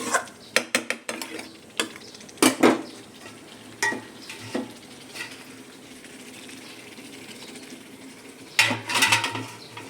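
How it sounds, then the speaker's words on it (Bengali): Chicken sautéing in a pan, stirred with a metal spoon: clanking scrapes and knocks in bursts over a low sizzle, nearby, with quieter stretches in between and no speech. "চিকেন কষাতে দিয়ে দিলাম।"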